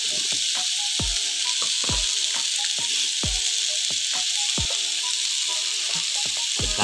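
Shrimp masala sizzles and fries in a pan, a steady bright hiss broken by repeated sharp crackles and spits, close and loud with no talking.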